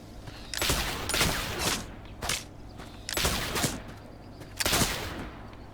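Three loud, close gunshots ring out from a gunslinger's weapon in The Oregon Trail (2022), each sharp crack followed by a short ringing tail, with gaps of roughly a second or more between them and no talk.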